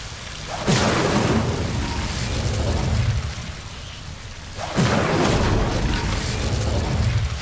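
Incendio fire spell in the video game Hogwarts Legacy, cast twice: each cast bursts into a loud, whooshing roar of flame that holds briefly before the second blast erupts a few seconds later.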